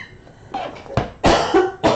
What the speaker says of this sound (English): It's just a dry cough.